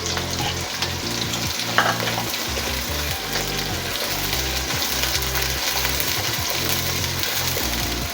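Chopped onions, about three large ones, frying in oil in a pot for chicken tikka biryani, with a steady dense sizzle and occasional stirring scrapes, close and continuous with no talk.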